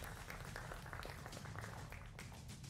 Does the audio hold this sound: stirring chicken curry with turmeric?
no